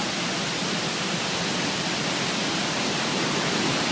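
The Pha Ba waterfall in Phu Ruea district, a drop of over 30 metres, roars in the rainy season as a steady, dense wash of rushing water that stays loud and unbroken throughout.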